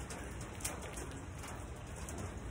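Steady rain during a two-day rainstorm, a dense, even hiss of drops on surfaces, with a dove cooing faintly in the background and no voices.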